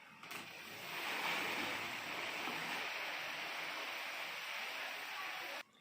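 Faint, steady wash of rainwater falling in a village lane, a continuous hiss with no talk over it.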